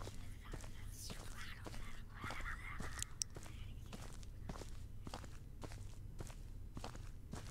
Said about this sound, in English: Is she attracted to the sounds of my footsteps?